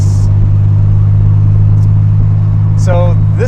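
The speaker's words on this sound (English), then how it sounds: "Today we are driving a 1991 Nissan" A 1991 Nissan 300ZX Z32 with a 3-liter V6 drones on the road at a steady, loud, low hum, with a short burst of speech near the end.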